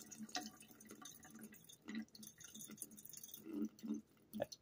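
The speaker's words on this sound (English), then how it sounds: "We're going to go ahead and pour this off." Liquid pours off fermenting heirloom tomato seeds in quiet, uneven splashes and drips, soft gurgling pulses broken by short pauses and a few louder spatters near the end.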